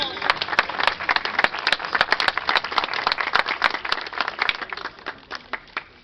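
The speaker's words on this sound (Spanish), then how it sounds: "¡Palmas, hermanos!" A crowd at an outdoor Catholic procession in La Molina claps steadily in a lively burst of applause that thins out toward the end, with a few scattered claps trailing off.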